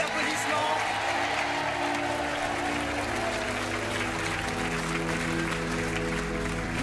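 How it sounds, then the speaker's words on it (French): Studio audience on a French TV money game show applauds steadily and loudly, a dense sustained clapping that fills the whole stretch, with a host's voice faintly mixed in. "On vous laisse repartir Merci bien. sous les applaudissements."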